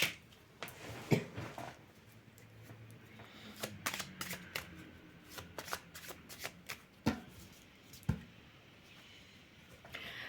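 Tarot cards are shuffled for a card reading in quick, soft riffles and sharp snaps, with scattered taps and slides of the deck, close and quiet with no speech.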